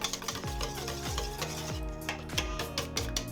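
Oil whisked into a sauce mix in a bowl for tartar sauce, a steady run of quick rhythmic scraping and tapping strokes of a whisk against the bowl, close and fairly loud, with no talk.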